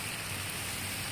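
Steady rain falling after two days of downpour near a flooded pond, a dense even hiss with no pauses and no voices.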